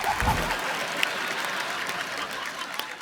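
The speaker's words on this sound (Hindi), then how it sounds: "जोरदार तालियों से स्वागत करिए योग गुरु बाबा रामदेव का।" A studio audience on The Kapil Sharma Show gives loud, steady applause welcoming yoga guru Baba Ramdev, a dense wash of clapping that fills the room evenly from start to finish with no talking over it.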